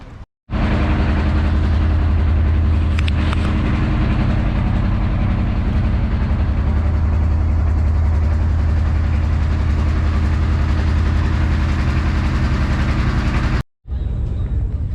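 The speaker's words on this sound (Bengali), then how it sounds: "আর নৌকাতে স্টার্ট দিয়ে দিবে" A boat engine in the Sundarbans starts up and settles into a loud, steady low drone that runs almost the whole time, then cuts off briefly near the end.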